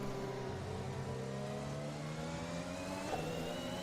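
Formula 1 car engine from the F1 2021 racing game, a Ferrari at the Australia circuit, revving steadily with shifting pitch, a continuous mid-level drone with no voices.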